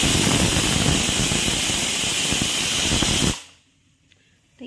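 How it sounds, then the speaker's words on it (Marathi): A 5-litre pressure cooker cooking dal and rice at home lets out a loud, close, continuous roar of escaping steam for about three seconds, then cuts off abruptly into near silence. "तर इथं डाळ भाताचा कुकर लावला आहे मी 5 लिटरचा."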